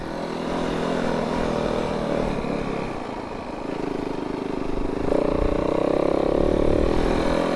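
Snowbike fitted with a BS Tech Quiver ski rides a snowy trail at speed. Its engine drones loud and steady, then rises in pitch as the throttle opens, with no voices.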